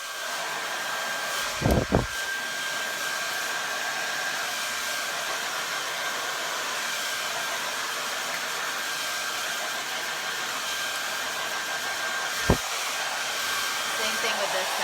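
A hair dryer blows out hair in a steady, loud, close whoosh that runs the whole time, with a couple of brief knocks as it is handled.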